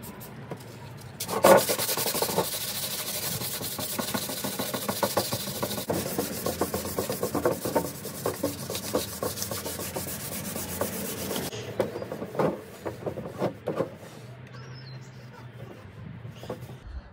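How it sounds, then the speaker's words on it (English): Repeated scratchy rubbing of sandpaper on a fibreglass fairing of a racing lawnmower, steady strokes for about twelve seconds, then quieter scattered scrapes. "get to sanding this all down and this all down, ready for paint"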